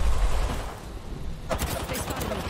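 Gunfire in the video game Apex Legends: after a quieter stretch, rapid bursts of automatic shots crackle in quick succession, loud and close, continuing to the end.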